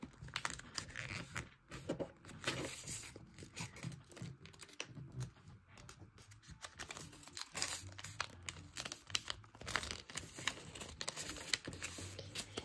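Paper being folded by hand for an origami spy plane, soft repeated crinkles, creases and rustles, close and quiet, with uneven bursts and short pauses.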